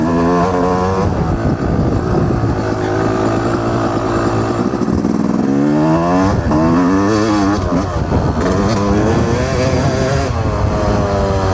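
A dirt bike rides a main loop backwards, its engine loud and close throughout, with rising and falling revs as it accelerates and shifts, no talking over it.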